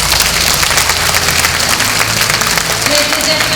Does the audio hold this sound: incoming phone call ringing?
no